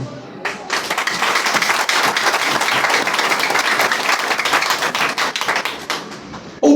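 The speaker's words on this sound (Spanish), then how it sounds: "Dale un aplauso a Cristo." Enthusiastic applause from a church congregation, dense clapping that starts abruptly, holds steady for several seconds, then thins out before a voice cuts in.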